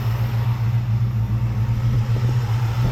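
A restored 1969 Dodge Super Bee idles close by, a deep, even rumble with a steady loping pulse throughout, loud and alone with no talking.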